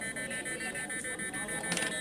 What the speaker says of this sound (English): we are getting a beeping sound because the user is in the dangerous zone